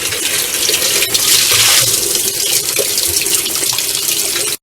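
Hot water gushing steadily from a tap supplied by a tankless water heater, a continuous close, loud splashing rush that holds for several seconds before cutting off abruptly.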